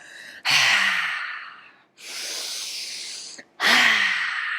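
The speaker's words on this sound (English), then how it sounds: "Breathe it out." Deep yoga breaths during a vinyasa flow: three strong, close breaths alternating between forceful, hissing exhales and a softer inhale, heard alone with no talk.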